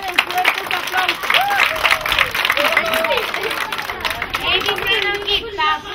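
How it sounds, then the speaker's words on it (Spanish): Children and adults clap and cheer before a puppet show in Gunayala, Panama, with lively applause mixed with excited voices and shouting throughout. "Entonces vamos a aplaudirlo para que se preparen fuertes"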